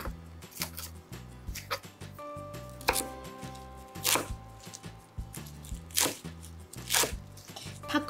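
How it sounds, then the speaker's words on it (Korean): A knife chops green onions into short pieces on a cutting board, sharp repeated thuds in an irregular rhythm, close and fairly loud, while preparing radish kimchi in the style served at seolleongtang restaurants. "파는요, 2cm 정도 썰어주시면 돼요."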